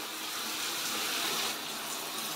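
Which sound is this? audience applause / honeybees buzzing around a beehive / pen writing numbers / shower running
shower running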